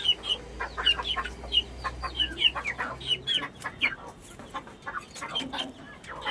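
Hens cluck with chicks peeping high and sharp over a backyard flock being fed, a close busy mix of short chirps and low clucks, with brief background voices.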